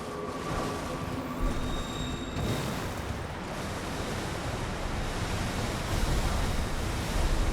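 A waterfall in the video game Elden Ring Shadow of the Erdtree roars as a continuous wash of falling water. Faint tonal game sounds fade out early on, and no one speaks.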